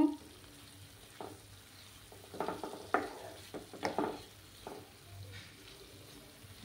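Spiced potatoes fry in a pan for Bengali milk potato, a soft sizzle broken by several bursts of stirring and scraping against the pan, fairly close and moderately quiet.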